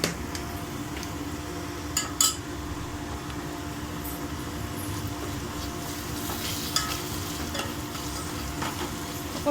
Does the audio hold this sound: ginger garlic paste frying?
yes